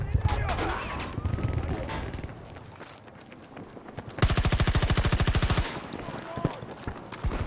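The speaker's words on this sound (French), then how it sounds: "elle a forte cadence son arme" Rapid automatic weapon fire in Battlefield 2042 rattles out as a loud, dense burst of evenly spaced shots lasting over a second, with scattered gunfire and movement sounds around it and a voice talking over the game.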